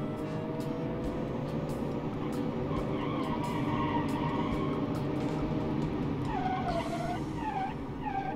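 A car engine held at full throttle in a driving video game: a steady, loud, buzzing drone that stays close and constant, with rising and falling pitch sweeps joining near the end.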